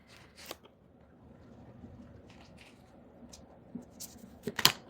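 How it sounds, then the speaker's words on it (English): Tarot cards being shuffled by hand in short bursts of soft riffling and flicking, close and fairly quiet, with sharper crisp snaps toward the end and no talking over them. "And they're telling me to shuffle again."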